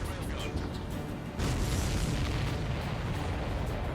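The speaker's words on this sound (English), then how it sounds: "Did you see that explosion? Looks like that's one of them down." An aircraft is shot down and explodes in the combat flight game Ace Combat 7. A dense roar of blast and fire noise fills the whole stretch and grows louder partway through.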